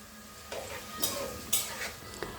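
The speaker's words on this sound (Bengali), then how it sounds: "এখন আরও কিছুক্ষণ ভাজবো" Spices including cumin and chilli powder are fried and stirred in a pan for meat khichuri. A soft sizzle runs throughout, broken by four rhythmic scraping strokes of a utensil against the pan, with no speech.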